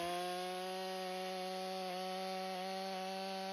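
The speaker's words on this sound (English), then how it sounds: "When I do a plunge cut, I like to keep the saw at full throttle the whole time." A chainsaw held at full throttle during a plunge cut into wood, a loud, steady high-pitched engine whine with rich harmonics and only slight dips in pitch as it bores in, sustained throughout.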